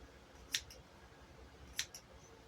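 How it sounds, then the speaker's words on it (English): Scissors snipping the loops of a handmade bracelet tassel, two crisp cuts about a second apart, close and quiet in a still room. "And then I'm going to go in and cut these loops."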